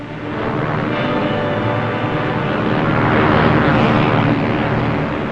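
An airplane flying overhead, a loud sustained engine roar that swells gradually and holds steady through the whole span, heard alone without talk.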